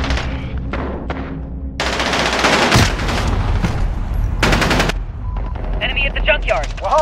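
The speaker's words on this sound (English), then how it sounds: "Taking fire!" Call of Duty Modern Warfare online match gunfire: loud, close bursts of rapid automatic fire and sharp single shots, with dense clustered volleys and a short gap, plus brief voice callouts mixed in.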